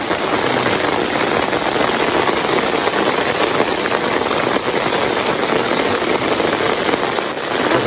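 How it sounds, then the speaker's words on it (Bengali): Heavy rain pouring down in a rural Bangladeshi village during the rainy season, a dense, even, loud hiss that stays constant throughout with no voices. "আর অনেক বৃষ্টি নামছে"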